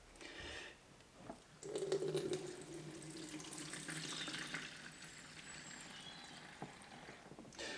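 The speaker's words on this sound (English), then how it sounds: "Just going to tip this out." Liquid tipped out of a chemical storage container, a steady splashing pour that runs for several seconds at moderate level with no talking.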